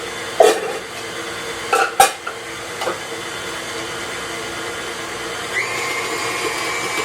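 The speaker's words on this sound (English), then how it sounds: "Mix this for a minute" An electric mixer whirs steadily through cake batter, with a few sharp clacks and knocks against the bowl early on, fairly close.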